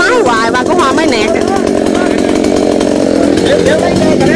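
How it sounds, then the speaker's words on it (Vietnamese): Chainsaw cutting down a coconut tree in the Mekong Delta, running with a loud continuous buzzing drone throughout, close up with talk over it; no clear stall is evident. "máy cưa bị tắt máy hoài"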